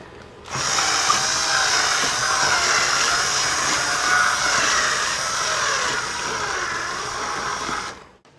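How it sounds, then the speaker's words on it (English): A power drill whines steadily and loudly for several seconds while enlarging a hole in a laptop, its pitch wavering slightly as it works, then cuts off abruptly. "I'm just going to bring the drill in like a circular motion just to make the hole a little bit bigger"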